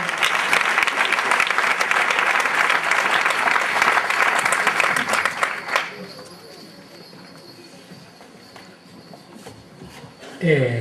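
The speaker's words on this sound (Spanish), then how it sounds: "Un fuerte aplauso." Loud applause from an audience at the Oinez 2019 presentation in Tudela, lasting about six seconds, then breaking off into a quieter room with faint murmurs and a brief burst near the end.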